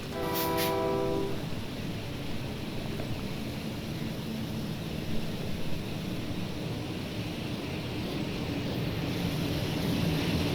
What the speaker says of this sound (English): It does have a little bit of a wind down for blowing air horns.